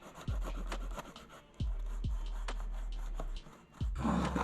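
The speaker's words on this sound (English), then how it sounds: "take our punji stick and burnish the edges" Leather edges of a tooled leather bag being burnished with a punji stick: close, repeated rubbing strokes in short bursts with brief pauses, a dry friction sound with no talking.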